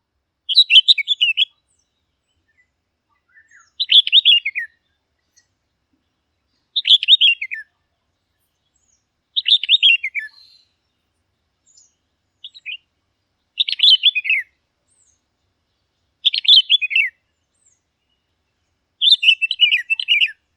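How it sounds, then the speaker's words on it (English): Red-whiskered bulbul singing in a garden: eight short, bright, melodious phrases repeated at steady intervals of a couple of seconds, clear and fairly close against near silence, no voices. "the red-whiskered bulbul has a more melodious song than the red-vented bulbul"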